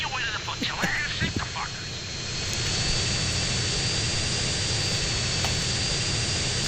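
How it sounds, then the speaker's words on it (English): A partially damaged jet in GTA San Andreas roars with a steady, loud engine whine, a brief voice showing through at the start before the rumble settles into a constant drone. "how very difficult it is to try and fly with a partially damaged jet"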